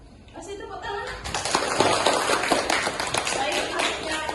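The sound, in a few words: applause for a student in class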